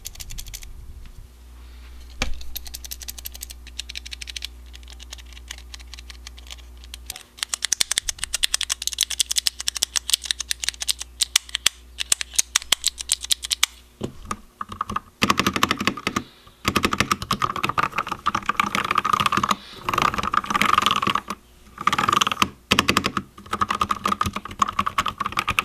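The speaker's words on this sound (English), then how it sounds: "let's go ahead and see what these keys sound like" Typing on a Vissles V84 compact wireless mechanical keyboard with blue hybrid switches produces rapid, continuous clacking. It is quieter at first, then busier and louder in dense bursts with short pauses, up close and alone.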